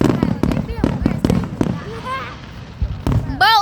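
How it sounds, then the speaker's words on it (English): Fireworks bursting in a series of sharp cracks and pops, several close together near the start and more near the end, with people talking and shouting over them. "imagine if one of the fireworks they shaped the form of Mickey Mouse"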